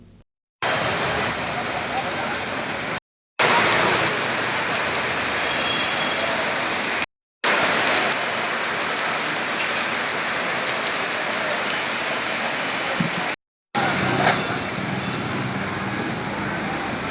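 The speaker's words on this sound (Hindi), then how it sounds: "कैसे बरसात हो रही है?" Steady, dense rainfall pours down outdoors in Varanasi, with the hiss of heavy rain and faint road noise. The sound runs in several long stretches broken by short silences, and people can be heard talking over it.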